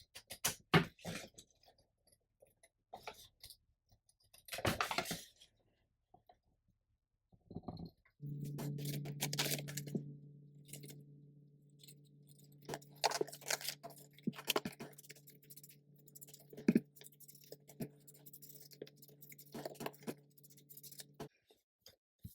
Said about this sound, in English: I need to cut around these